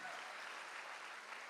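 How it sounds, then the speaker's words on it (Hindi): A motivational leadership seminar crowd claps steadily, a soft, even patter of many hands that sounds distant and fairly quiet throughout, with no talking on top. "उनके लिए मैं तालियां बजाना चाहता हूँ"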